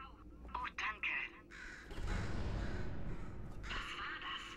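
A bird caws several times in short bursts in Portal 2, then goes quiet while a louder rumbling passage plays and voices talk over it.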